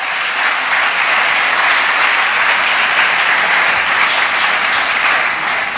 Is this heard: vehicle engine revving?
no